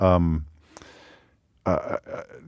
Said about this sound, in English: Did you just burp on the radio